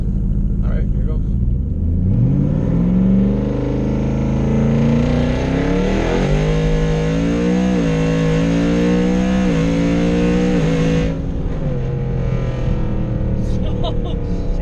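A 1000+ horsepower Ford F150 truck in 4x4 revs hard with its wheels spinning, a loud continuous engine roar rising and falling in pitch through several surges, close by, with voices briefly audible.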